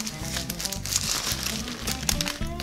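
Close paper crinkling and crackling as a Burger King cheeseburger wrapper is pulled open, a few bursts of rustling over a couple of seconds.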